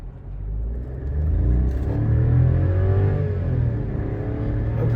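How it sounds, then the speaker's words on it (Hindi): A 2023 Volkswagen Virtus automatic pulls away hard in drive mode, its engine rumble rising steadily and loudly through the gears, close and continuous with no talking. "ड्राइव मोड में आपको एक बार पिकअप चेक करवाता"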